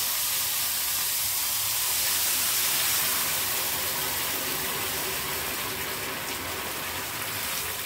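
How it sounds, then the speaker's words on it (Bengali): Water pouring into a pot of broken rice (khud) for a Bengali rice dish, a steady broadband gush and splash running continuously and fairly loud throughout, easing slightly toward the end. "এইবার আমি এটা জল দেব।"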